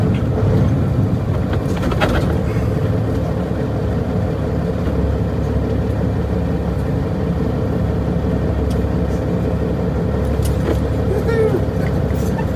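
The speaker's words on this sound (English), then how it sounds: "Oh, I hate pulling into our driveway with this truck." A pickup truck pulls up a very steep driveway, its engine giving a steady low rumble that stays close and even throughout, with no talk over it.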